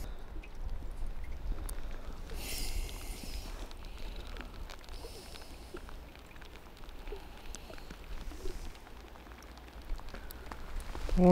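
Rain pattering at Lindley Wood Reservoir during a fishing session, a soft scattered tapping of drops with occasional sharper ticks and a faint bird call, low and steady throughout.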